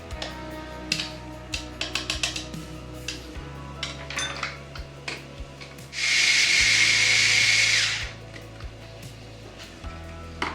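A food processor blending a smooth, creamy pastry-bag filling runs in one loud, steady burst of about two seconds, with scraping and clinking of utensils before and after.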